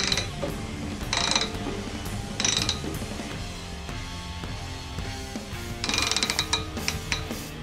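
An engine crankshaft is turned slowly by hand until the piston meets a positive stop during camshaft degreeing, producing close mechanical clicks, ratcheting and creaks in bursts, with no talk.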